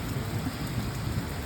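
Steady, dense rain of a thunderstorm with a low rumbling wash underneath, loud and unbroken throughout, with no voices.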